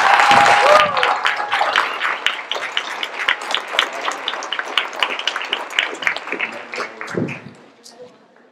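Audience applause at a community meeting where candidates for U.S. Congress and the Texas House are questioned, a loud burst of clapping that fades into scattered claps and crowd murmur over about eight seconds.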